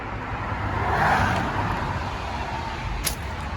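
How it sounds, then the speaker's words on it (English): Steady roar of cars passing on a major US interstate just below an abandoned train bridge, a broad continuous wash of traffic noise that swells briefly as a vehicle goes by, loud and close with no talk. "Like the cars go right past you."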